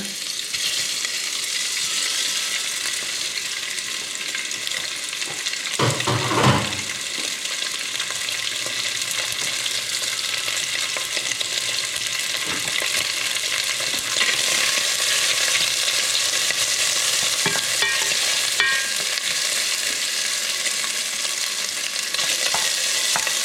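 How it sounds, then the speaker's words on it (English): Pork sizzling and frying in a pot as the base for kimchi jjigae, stirred with steady scraping; continuous loud sizzle throughout with a brief louder clatter near the start. "And now we are ready for pork to go in."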